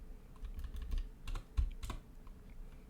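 Computer keyboard typing at close range, quick irregular key clicks coming in short bursts with brief pauses, quiet and without talk.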